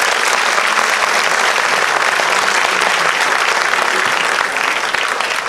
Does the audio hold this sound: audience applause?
yes